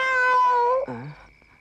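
A palm civet lets out a drawn-out, cat-like wailing cry that holds steady and then bends downward into a shorter, lower moan before fading. It is loud and near, in a quiet indoor setting.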